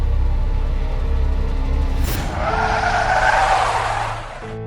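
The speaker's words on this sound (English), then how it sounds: "pressed the brakes hard" Car braking hard with tyres skidding and squealing, a rumbling engine giving way to a loud, rushing screech of rubber on the road that fades out near the end, with no talk.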